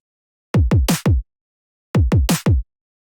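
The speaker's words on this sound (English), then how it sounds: "kick, snare, kick. So that's going to sound something like this." Programmed kick and snare drum build-up in FL Studio for Belgian jump-up drum and bass: two identical bursts of four punchy hits, kick, kick, snare, kick, with a clear gap between them.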